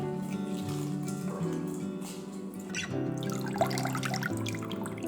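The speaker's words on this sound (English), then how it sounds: "start by rinsing the onion and garlic skins in water" Tap water runs over onion and garlic skins being rinsed, a steady close splashing and trickling at moderate volume with no talking.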